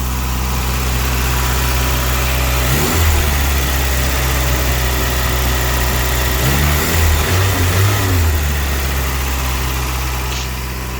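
A cold mini truck engine idling fast and steady, a loud continuous low rumble with slight shifts in pitch, no talking.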